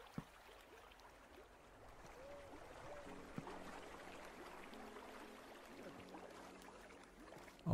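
Flowing water in Minecraft Bedrock, a steady rushing stream texture that runs continuously at moderate level, with faint game effects layered over it.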